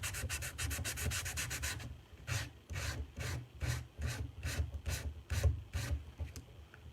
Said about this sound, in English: when I'm sanding like this